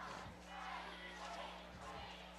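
A huge crowd of high school football fans at a Belfry vs. Pikeville night game sends up a steady roar of cheering, a dense wash of voices that stays loud and even throughout.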